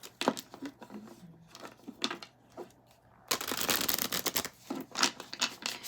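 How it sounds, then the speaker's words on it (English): Tarot cards being shuffled by hand close to the microphone: bursts of crisp riffling and flicking, with a brief pause before a longer, louder riffle, all without talk. "Let me just shuffle these again."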